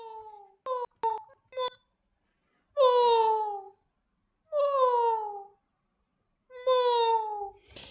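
A human voice, looped and noise-reduced, imitates a cat with a few short clipped chirps and then three drawn-out, falling meow-like calls separated by silence.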